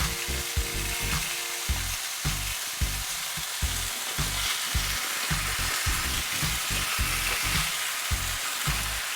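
Champignon mushrooms dropped into a pan beside softened onions sizzle loudly and steadily, with a broad hiss broken by a run of rhythmic scraping and knocking from stirring, no voices.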